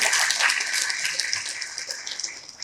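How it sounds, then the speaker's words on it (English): Audience at a mushroom industry summit session in India clapping for the speakers, a dense steady wash of many hands at moderate level, fading slightly toward the end with no voices over it. "Let's thank and give a big clap for all the speakers"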